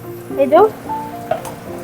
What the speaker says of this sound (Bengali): পেঁয়াজটা একটু ভাজা হোক